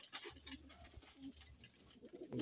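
Pigeons coo softly in a dim loft at feeding time, with a few low repeated coos over faint background rustling.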